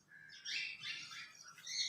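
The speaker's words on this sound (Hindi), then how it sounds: "चिड़िया की आवाज आ रही है" A small bird chirps and twitters in quick bright bursts close by, with a quiet background and no talking.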